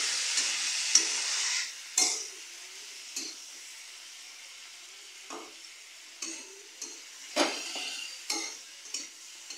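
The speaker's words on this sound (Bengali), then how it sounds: "এরকম ভাজতে ভাজতে এই টমেটোটা সেদ্ধ হয়ে যাবে" Tomatoes frying in a pan for an elephant foot yam curry, a soft steady sizzle broken by several sharp clinks and scrapes of a spoon stirring against the metal, close by with no voices.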